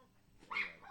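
A single short dog bark or yip, fairly faint and a little distant, standing alone without talk over it.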